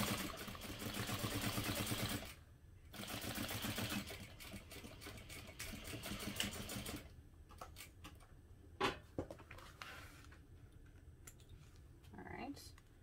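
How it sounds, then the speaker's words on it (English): A sewing machine stitches fabric pieces together with a 1/4 inch seam, a fast rhythmic whirring run that stops and restarts in bursts, followed by quieter handling clicks and thread sounds. "sew this together using a 1/4 inch seam allowance"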